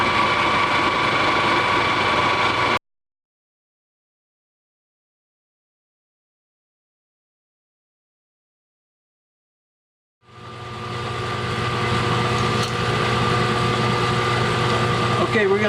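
A lathe cutting metric threads hums steadily as it runs, then cuts to complete silence for several seconds before the machine drone swells back up, with some talk possible over it.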